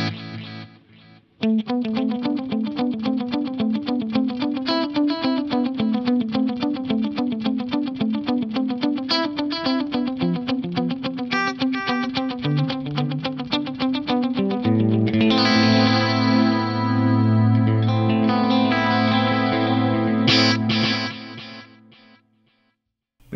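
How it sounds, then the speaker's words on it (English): An electric guitar runs through a Digitech Timebender delay pedal set to a quarter-note and dotted-eighth multi-tap pattern, its notes trailed by cascading rhythmic repeats that blur into a dense, shimmering wash, loud and alone. "This gives you the classic quarter note dotted eighth note subdivision."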